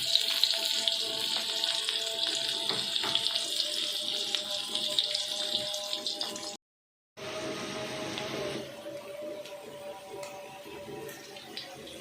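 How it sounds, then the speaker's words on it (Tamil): Onions frying in ghee and oil for uppuma, a steady bright sizzle that holds for several seconds, drops out briefly, then returns a little quieter with no speech. "அது நெய்யிலையும் அந்த வெங்காயம் எண்ணெயிலையும் நல்லா பொரியணும்."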